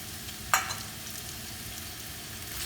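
Sliced onions with chopped ginger and garlic sautéing in a very hot pan, a soft continuous sizzle with one sharp clink of a utensil early on, quiet and close.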